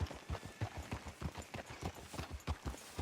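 Horse hooves clip-clop at a steady trot in the video game Red Dead Redemption 2, a close, even run of hoofbeats lasting about three seconds with no talk over them.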